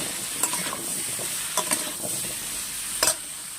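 Potato and pumpkin pieces frying with salt and turmeric in a pan, a low continuous sizzle with three sharp bursts of spatula stirring and scraping.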